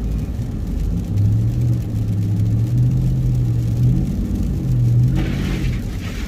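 A car engine idling steadily in snowy blizzard conditions, a low continuous hum with a slight rise in revs near the end, close and alone with no talk.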